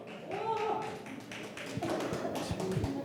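Scattered audience clapping at a live pumba folk comedy stage show, uneven and moderately loud, mixed with crowd chatter and background music.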